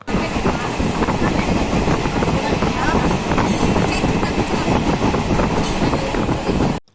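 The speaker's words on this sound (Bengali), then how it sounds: "আমাদের ট্রেনটি গ্রাম, মাঠ এবং পুকুরের চারপাশ দিয়ে যাওয়ার কারণে" A passenger train runs on rails with a loud, steady rumble and rattle of the carriages that carries on without a break, heard from on board.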